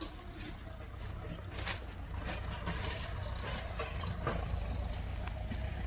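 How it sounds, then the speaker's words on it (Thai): A second tractor engine working on a farm that is levelling raised paddy-field banks runs with a steady low rumble, holding an even level for several seconds, with a few faint clanks and no talking over it. "รถไถอีกคันหนึ่ง"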